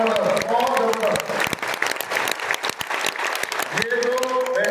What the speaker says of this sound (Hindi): एक जोरदार तालियां आप सबके लिए